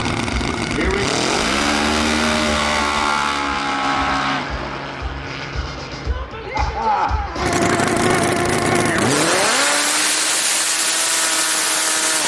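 Two 1100 HP racing snowmobiles launch from a standing start on a lakeshore drag track, engines screaming loud and rising in pitch as they accelerate away, then a fresh high-revving roar returns near the end.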